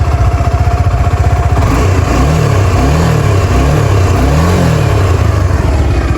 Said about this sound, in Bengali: এর ইঞ্জিনের যে সাউন্ড কোয়ালিটি আমি আপনাদেরকে এখন দেখাবো।